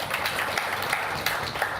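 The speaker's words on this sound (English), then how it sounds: "Please clap for yourselves." An audience at a digital health symposium in Africa claps together, a dense and even patter of many hands that carries through the room without any break.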